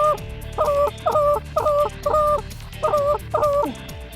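A large flock of waterfowl calls during a hunt at Montevideo, giving repeated bursts of nasal honking notes in a loose rhythm, fairly close and clear with no talk.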